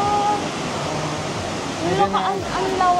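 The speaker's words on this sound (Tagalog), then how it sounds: "Shifen Waterfall!" Shifen Waterfall in Taiwan roars as a broad, constant wash of falling water, loud and near, while people talk excitedly over it.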